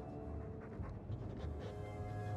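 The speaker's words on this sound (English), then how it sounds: "That's a good dog." A dog pants steadily in Dragon Age II, a quick rhythmic huffing that runs through the whole stretch at close range, with sustained game music tones underneath.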